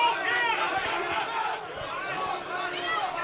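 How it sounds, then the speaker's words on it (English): A sellout boxing crowd at Michael's 8th Avenue roars and cheers as a continuous, dense wall of voices, with shouts rising and falling throughout. "Crowd certainly into it here at Michael's 8th Avenue. A sellout crowd tonight."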